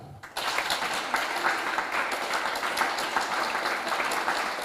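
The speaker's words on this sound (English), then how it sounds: "Let's clap." A conference audience at a lake basin innovation and investment week breaks into brisk, continuous clapping that starts abruptly and stays even and fairly close.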